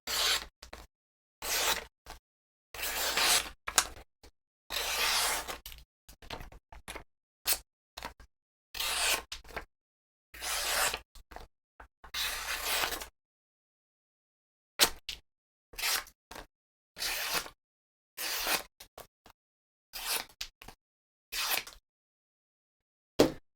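Factory edge of a Jack Wolf Big Bro Jack clip-point knife slicing stiff paper, a run of short crisp rasping cuts in quick bursts with brief silent gaps, close and clear with no voices.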